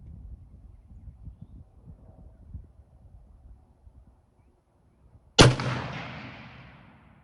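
A single sharp crack from a Remington M1903A4 rifle, loud and close, fired after several seconds of quiet outdoor rustle and low wind, with a long decaying echo trailing off afterward.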